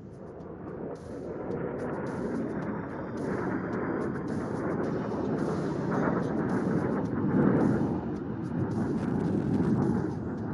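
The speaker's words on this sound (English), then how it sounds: "Look out for the Jaguars approaching from your right, flying low to avoid enemy's radar." Indian Air Force Jaguar jets flying low over the Pokhran range during a firepower demonstration, a broad continuous roar that swells slightly toward the end, steady and fairly loud with no speech.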